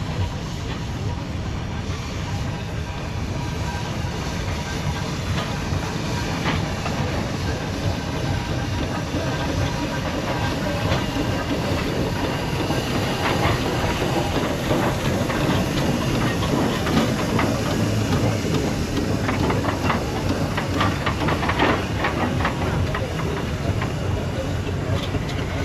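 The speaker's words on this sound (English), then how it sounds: "at the bottom of the hill we can see a McLaren traction engine pulling one of the heavy haulage" A McLaren traction engine hauls a heavy haulage boiler uphill at a steam rally, a continuous broad mechanical roar with hiss and rhythmic chuffing that holds steady and loud throughout, with faint voices in the background.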